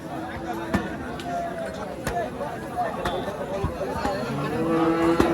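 Cattle at a busy village cow market, the Chandipur haat, low under constant crowd chatter and nearby talking, with occasional sharp knocks and short tonal calls scattered through.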